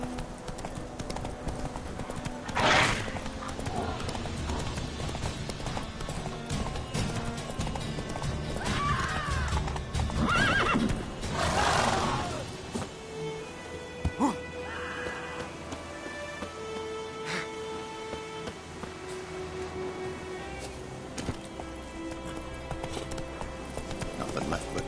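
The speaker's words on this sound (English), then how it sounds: "Run, Roach." Hoofbeats of the horse Roach galloping in The Witcher 3 game, a steady clip-clop rhythm with a few whinnies, set against music and ambient rain.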